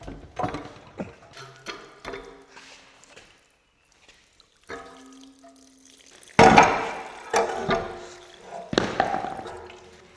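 Liquid and rusty dirt are tipped out of an old gas-powered air compressor's tank, coming as irregular splashes and drips with clanks, and building into louder pouring bursts near the end.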